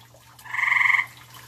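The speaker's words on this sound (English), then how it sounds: "you frogs, shut up" Frogs croak in a single steady, buzzing burst lasting about half a second, fairly close and alone over a low constant hum.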